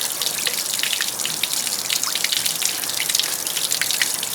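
Cooling water gushes and splashes steadily from a 1987 Johnson 40 hp outboard motor fitted with a brand-new impeller, a continuous close hissing spatter with no voices.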